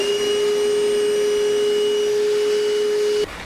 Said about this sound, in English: This is our time to grab our Milwaukee M18 shop vac.